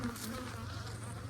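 A steady, dense buzzing of honeybees around commercial beekeepers' hives on a hot day, continuous and close, with no voices.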